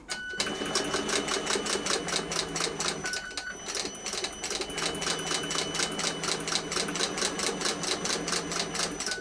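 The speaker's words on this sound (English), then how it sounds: "I use industrial machines, and they're very good actually because they have the power and precision to actually do a nice sewing job" Industrial sewing machine stitching thick leather for a handmade mailbag, a close, fast and even run of mechanical needle beats that carries on almost without a break.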